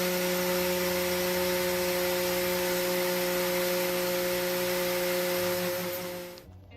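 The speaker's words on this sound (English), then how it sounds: "we're going to give them a big blend and see how that works" A blender grinds oats into powder in a kitchen, a loud, steady high-pitched whirring motor drone that runs continuously before winding down at the end.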